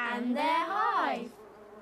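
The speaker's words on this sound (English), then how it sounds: "Buzzy bees." A buzzing bee sound in a 1993 children's nature trail programme, voiced as a rising and falling drone, close and loud, that fades near the end.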